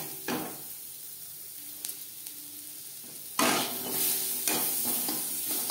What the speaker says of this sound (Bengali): আম ভাজা হয়ে গেছে